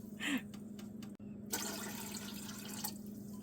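Water is poured into a pot while teriyaki sauce is being made at home, with a short splashy pour near the start and then a steady, fairly soft stream of filling water running to the end.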